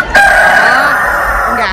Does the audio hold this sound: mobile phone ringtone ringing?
no